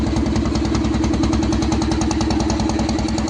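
A boat engine runs steadily on a river, a loud, close, rhythmic throbbing chug that keeps an even pulse throughout with no voices.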